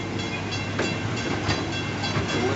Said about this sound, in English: we are pulling back into the main train station now